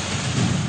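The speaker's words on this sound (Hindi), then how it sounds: "मलकवाल में तेज हवाओं के साथ बरसात हुई।" Heavy rain with thunder in news footage from Malakwal, Punjab, as a windy storm pours down, a steady loud roar of downpour with a low rumble swelling midway through, no voices.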